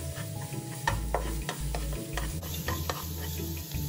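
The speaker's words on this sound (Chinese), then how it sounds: "在镬内倒入约2大匙食用油，将预先备好的1大匙蒜末倒入爆香" Minced garlic sizzling in about two tablespoons of hot oil in a wok, with a steady crackle broken by repeated scraping and stirring clanks of a spatula, close and clear, no voices.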